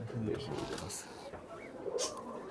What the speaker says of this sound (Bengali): দেশি দুইটা কবুতর আছে